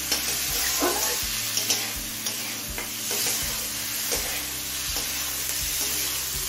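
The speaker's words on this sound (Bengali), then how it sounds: "এবার হাই ফ্লেমে কিছুক্ষণ কষিয়ে নেব।" Spiced fish masala, bhola fish with onion shoots and eggplant, is stir-fried on high flame, giving a steady loud sizzle broken by repeated scraping stirs of a spoon against the pan, with no voices.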